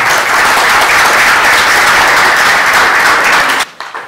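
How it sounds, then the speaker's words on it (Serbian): A seated audience at a book presentation at International Burch University Sarajevo bursts into loud, dense applause for the author, sustained evenly before cutting off abruptly into a few scattered final claps. "Molimo da pozdravimo našeg autora sa aplauzom."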